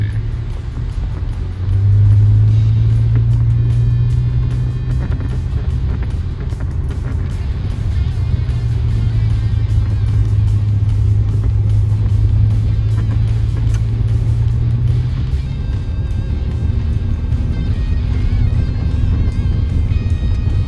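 A car with a 4L60E automatic transmission stuck in one gear drives steadily, its engine holding a loud, constant low drone with slight swells in pitch and no shifts, heard from inside the cabin with no talking.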